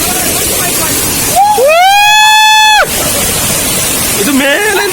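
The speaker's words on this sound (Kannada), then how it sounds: "ನಾವು ಎರಡನೇ ಜಲಪಾತಕ್ಕೆ ಬಂದಾಯಿತು" A waterfall near Jambri cave roars loudly and steadily throughout in rainy weather, while a long high whooping call rises over the rush for a moment.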